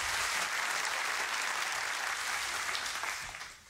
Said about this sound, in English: So let's have it a big applause for Dave, too.